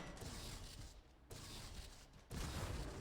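Video game explosions from the Colossus gear Vassa's Arc come as three quiet, broad crackling bursts, each a second or so long and separated by brief lulls.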